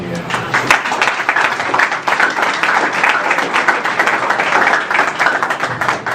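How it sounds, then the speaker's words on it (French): An audience at a university law faculty anniversary ceremony in Cap-Haïtien, Haiti, applauds steadily, dense clapping that stays loud and even for several seconds, with a few voices mixed underneath. "Est-ce que vous ne voulez pas l'applaudir?"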